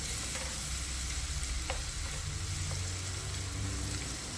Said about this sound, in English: We're going to saute this for about 30 seconds.